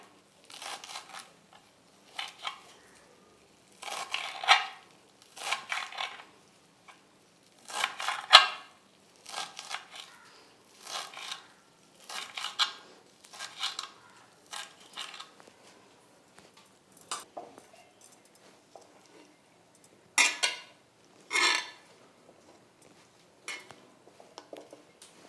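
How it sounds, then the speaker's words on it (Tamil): A knife finely chops freshly cleaned coriander on a board, making quick clusters of crisp taps in irregular bursts with short pauses between them. "கொத்தமல்லியும் நல்லா க்ளீன் பண்ணிவிட்டு பொடியை நறுக்கிக்கோங்க."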